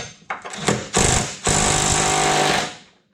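An impact wrench loosens a bolt on the rear end of a 1999–2004 Jeep Grand Cherokee: a few short rattling bursts, then one loud, sustained hammering run of about a second that cuts off cleanly. No talk.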